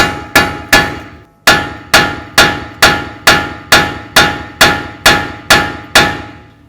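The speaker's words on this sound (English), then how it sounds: "we're going to use a punch and a hammer, come right in through the center here and break this free" Steady hammer blows on a punch driven into the center of a front axle nut on a 2006-12 Ford Fusion, about a dozen sharp metallic strikes at an even rhythm, close and loud with no talking.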